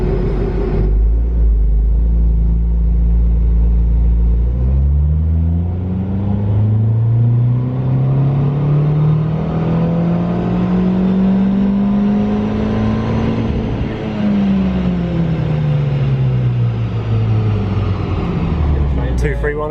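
A Ford Fiesta ST180 engine revs loud and close on a dyno, the tone climbing steadily through a long pull before falling away, with talk heard over it.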